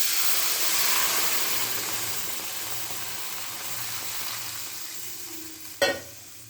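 Milk poured into a pan of roasted vermicelli for kheer sets off a steady, loud sizzling hiss that slowly eases, ending with a brief clatter.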